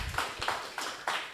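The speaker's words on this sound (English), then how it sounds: "A round of applause from Ma'am Arwal." Seminar audience applause, four or five crisp, evenly spaced claps close by, light and thin rather than a full roaring ovation, with no voices over them.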